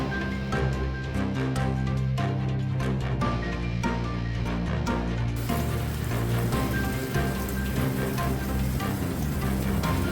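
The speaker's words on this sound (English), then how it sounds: "That's hailing again." Nickel-size hail falls outdoors on a Halloween-decorated yard, a dense, loud, continuous patter of ice striking surfaces with sharp individual impacts throughout, no voices.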